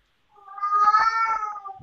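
A single drawn-out cat meow rises and falls over about a second and a half, close and clear, with no other sounds around it.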